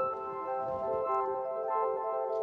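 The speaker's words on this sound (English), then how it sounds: "The OP-1 is a kind of a boutique synth, and it makes sounds like this, which I call twinkly." An OP-1 boutique synth holds a sustained, shimmering tone with layered high harmonics, giving a twinkly, glassy texture at steady moderate loudness with no voices.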